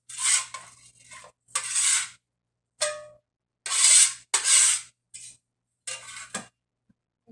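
A small scraper pushes chopped raw salad into a bowl in repeated rasping strokes, close and fairly loud, with short pauses between them.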